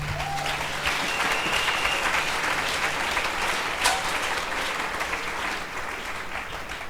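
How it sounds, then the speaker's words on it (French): A church congregation applauding to acclaim the Lord at a women's convention, loud, sustained clapping from a large crowd filling the room, fading slightly toward the end. "C'est pas mauvais si on acclame le Seigneur."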